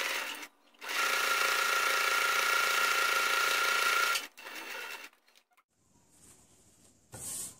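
Sewing machine running a straight seam along the edge of a fabric face mask with a head strap: one long steady whir, close and loud, then a short second burst, followed by quiet handling noises and a brief high whine.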